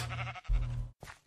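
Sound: sheep bleating in a video game (Projekt Zylon)

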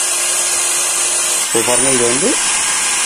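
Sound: power drill with 3.5 drill bit drilling AC unit

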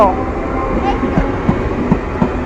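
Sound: train passing

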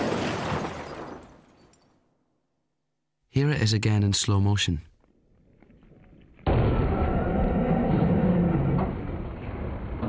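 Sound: car crashing into a parked car

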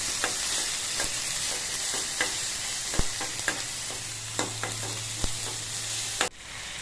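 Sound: frying goat spleen with ginger garlic paste

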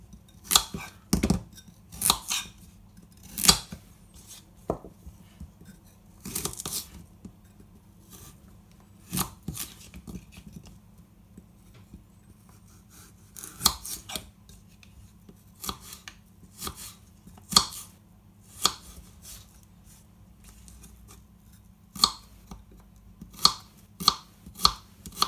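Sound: chopping carrots finely with a knife

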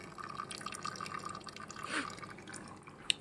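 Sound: melted beeswax dripping from a steam wax melter tap

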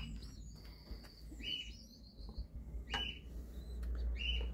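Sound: orphaned baby pigeons being hand-fed

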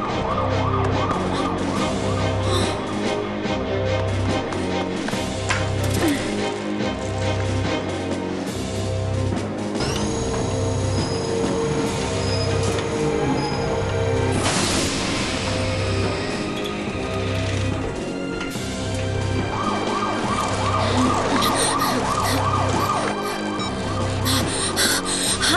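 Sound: ambulance siren, cartoon

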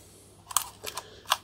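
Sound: old film camera shutter and mirror mechanism clicking

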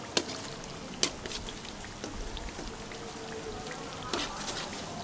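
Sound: heavy rain falling

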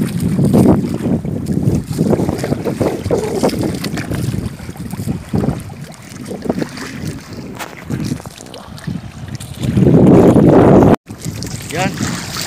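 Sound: rough sea waves and wind around fishing boat

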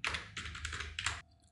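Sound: computer keyboard key press

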